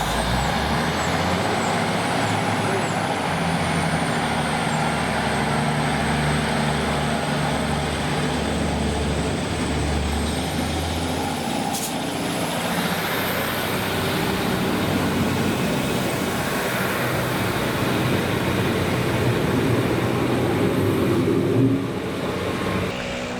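ScotRail diesel passenger unit 156436 on the Kilmarnock to Stranraer service passes at Prestwick, a loud, sustained engine rumble with a rising whine and rolling wheel noise throughout, with no talk.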